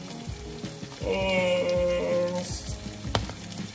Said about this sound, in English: Throw in some ginger